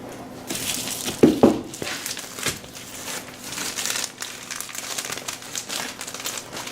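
Crinkly rustling of lightweight insulation material being handled close by, with a couple of sharper crackles early on and steady soft crinkling throughout.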